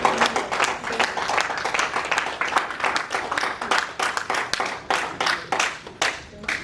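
Audience applauding at an annual convention meeting and election day, a steady crowd clapping with distinct individual hand claps, fairly close, continuous throughout with faint voices underneath.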